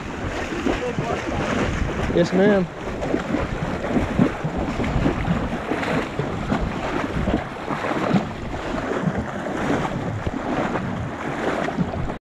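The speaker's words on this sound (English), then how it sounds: "So have a listen to the swishy water." Horses wade through ocean shallows with riders on their backs, water swishing and splashing continuously under heavy wind rumble on the microphone, with brief speech partway through.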